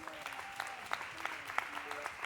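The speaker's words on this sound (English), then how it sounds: "Can we clap also for the worship team and the band?" A church congregation clapping for the worship team and band, a fairly quiet, loose patter of hands with individual claps standing out, while a voice speaks over it.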